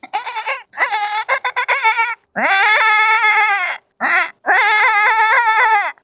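A human voice mimics a goat bleating with loud, quavering, nasal calls: a stuttering burst of short bleats, then a long wavering bleat, a quick one and another long trembling cry.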